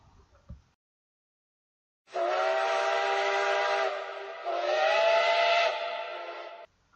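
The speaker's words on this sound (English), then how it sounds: "one of the trains rolled up by the church and gave a mournful, long whistle" A long, mournful train whistle sounds after a brief knock and a pause, holding a steady chord for several seconds before cutting off.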